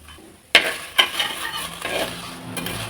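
Dried chillies dropped into curry leaves frying in oil in a pan for curry leaves powder: a sudden crackling sizzle bursts out, followed by a second flare and stirring scrapes as the hiss settles, close and with no voices.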